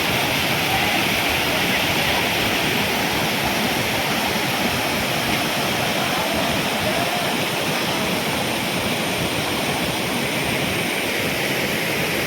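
Stream water flows past the entrance of a Shiva-Subrahmanya temple in Kalathur, a continuous loud rushing roar close to the microphone, steady from start to finish.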